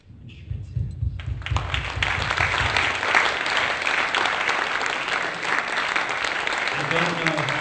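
Sustained applause from a live audience at a percussion competition finals, with dense clapping that swells after a brief lead-in and carries loudly through to the end.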